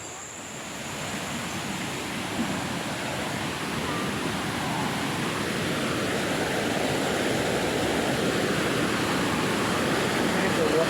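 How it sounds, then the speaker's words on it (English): Steady broadband rush of a waterfall at Mari-Mari Cultural Village in Sabah, loud and continuous, with a faint voice briefly audible over the constant water noise. "Waterfall"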